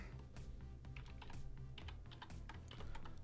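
Code being typed on a computer keyboard, a rapid, uneven stream of close key clicks with brief pauses and occasional heavier strokes, quiet and with no voices.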